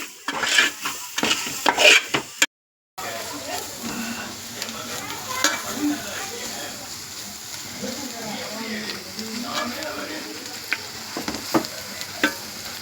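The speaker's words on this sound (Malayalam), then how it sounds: "അടുത്തത് മഞ്ഞൾപ്പൊടി. നന്നായി ഇളക്കി കൊടുക്കാം. ഇത് ഓയിലിലേക്ക് കുക്കായി വരണം." Turmeric powder is stirred into masala frying in oil for chicken gravy, with a loud close sizzle, scraping spoon-and-pan strokes and a brief silent break early on, while a voice talks over it.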